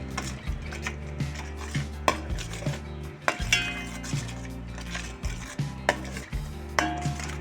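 Fish curry masala with chili powder and salt is stirred in a pot, giving repeated metallic scrapes and clinks of a spoon against the pan in an uneven rhythm over a low background hum.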